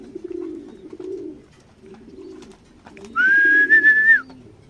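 Domestic racing pigeons during winter training give low soft coos near the start and again midway, then a clear sustained whistle-like call rises loud and close near the end.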